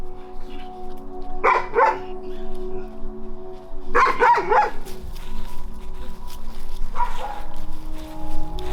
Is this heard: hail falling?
no